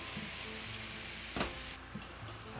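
Homemade teriyaki sauce sizzles and fries steadily in an oiled pan with chicken medallions, a continuous bright hiss broken by a couple of sharper pops and stirring knocks, close and moderately quiet.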